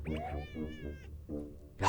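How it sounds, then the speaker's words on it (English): A cat in the video game Impostor Factory meows several times in quick succession, each call drawn out and fairly quiet, with no voices over it. "The cat!"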